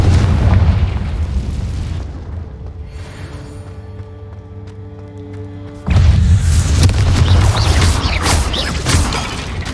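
A blasting spell explodes in the video game Hogwarts Legacy with a loud, booming roar. A quieter ringing, mechanical stretch follows, then a second heavy blast that rumbles on to the end.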